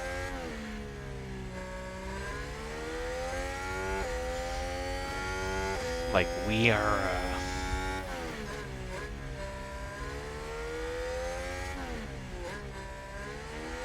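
Formula 1 cars in the F1 Manager game scream past, high-pitched engines rising and falling through gear changes, with one sharp close pass in the middle and brief speech near the start.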